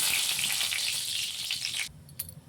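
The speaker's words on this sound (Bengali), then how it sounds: "ঠিক এই স্টেজে আমরা এখানে শুকনো লঙ্কা একটা ছিঁড়ে দিয়ে দিলাম।" A torn dried red chili hits hot oil already tempered with black cumin, giving a loud, close, hissing sizzle that cuts off sharply near the end, followed by a few faint clinks.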